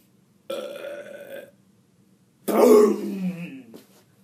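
Two loud, close burps: a one-second belch, a pause, then a longer, rougher burp that trails off, with no talk around them.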